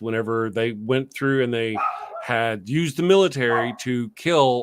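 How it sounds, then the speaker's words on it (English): A pet puppy barks repeatedly through close, continuous male conversation, the yips and barks partly buried under the talking. "Sorry about my puppy dog."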